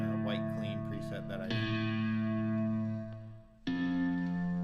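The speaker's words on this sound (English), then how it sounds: "I've got Guitar Rig and Valhalla room reverb on there." Electric guitar through a Guitar Rig clean preset with Valhalla Room reverb, playing clean sustained chords that ring with a long, lush reverb tail; a fresh chord enters after a brief decay.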